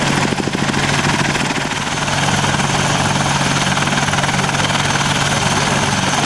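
An Apache helicopter performs display manoeuvres at the Cosford airshow, its loud, continuous rotor thump and turbine roar filling the air throughout.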